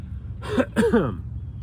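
A single close throaty cough, two or three rough bursts in quick succession, otherwise quiet.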